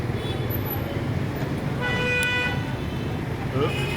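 Busy Hanoi street with scooters and cars streaming past in a constant rumble, broken by several sharp horn honks, one sustained toot near the middle.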